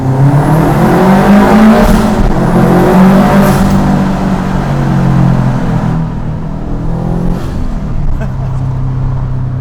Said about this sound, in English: So today I'm going for a drive just because I can, and figured I'd take you along.